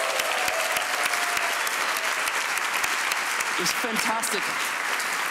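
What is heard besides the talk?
conference audience applause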